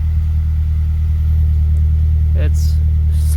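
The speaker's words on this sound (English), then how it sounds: "this is C&T catback exhaust that I put on probably like 3 months ago" A 2012 Mazdaspeed 3 with a catless downpipe and C&T catback exhaust idles at close range, a steady low rumble throughout with a faint brief chirp near the end.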